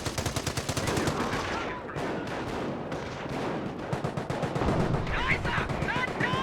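Bren light machine guns and other machine guns rattle in rapid bursts during a Company of Heroes battle in city ruins, dense and loud, with overlapping gunfire and explosions throughout and a voice talking underneath.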